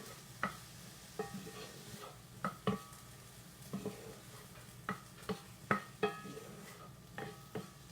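Veggie rice with balsamic vinegar sautéing in a pan, a quiet, soft sizzle broken by scattered clicks and scrapes of a utensil stirring the pan at an uneven rhythm.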